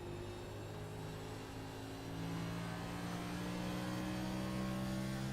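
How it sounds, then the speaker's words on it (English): NASCAR race car engine heard onboard at Phoenix International Raceway, a steady loud drone with pitch climbing through rev-matched shifts, continuous for the whole stretch. "Rev match shifting."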